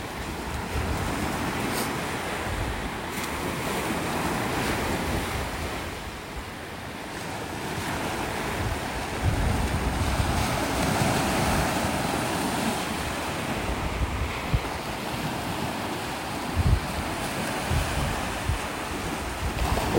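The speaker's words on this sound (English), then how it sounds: "Loving the sound of the waves." Ocean waves wash onto a beach in North Naples, Florida, a continuous loud surf roar with gusting wind buffeting the microphone and occasional heavier breaking swells, no voices.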